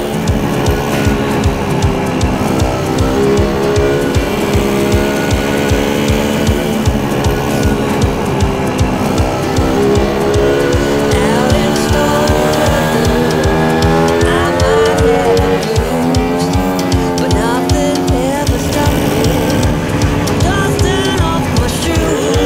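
A Puch Maxi N moped rides along with a steady, buzzing two-stroke engine drone that rises and falls in pitch, loud and close throughout.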